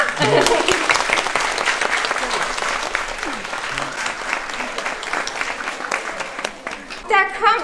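A crowd at a live children's entertainment show in Frederikshavn applauds loudly and steadily, with children's voices and cheers mixed in, swelling again near the end.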